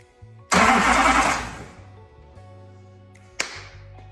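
A swapped-in LBZ Duramax diesel turns over and fires with a loud sudden roar, settles into a lower idle, then a second sharp burst near the end, close up with no talking.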